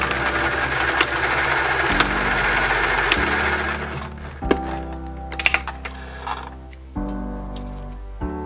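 A sewing machine runs a short side seam on a vintage dress, motor whirring in bursts with rapid mechanical needle clatter, stopping and restarting several times at close range.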